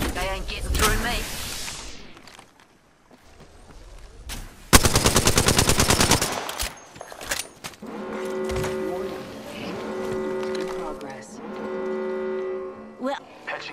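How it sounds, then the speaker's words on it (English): Bursts of automatic gunfire from an Apex Legends match crackle loudly, with a dense rapid volley in the middle, then quieter game sounds and tonal effects follow. "Listen up, I'm getting shot at."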